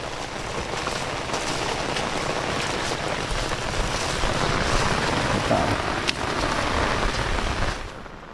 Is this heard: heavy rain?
yes